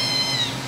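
A kitten gives a single short, high meow, close and clear with no talking.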